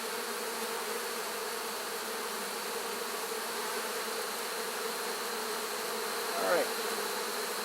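Honey bees swarm around an open hive during a honey extraction, producing a steady, dense buzzing drone that fills the whole stretch, with one brief louder whine as a bee passes close near the end.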